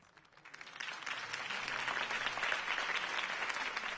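Crowd applause in a Batman video game swells up after a quiet start and keeps going strong, a thick wash of many hands clapping at once.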